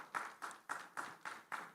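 An audience at a governance forum claps in a faint, steady rhythm, about six even beats in under two seconds, with no talking over it.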